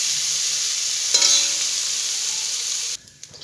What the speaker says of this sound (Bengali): ফুলকপিগুলো আমার ভাজা হয়ে গেছে,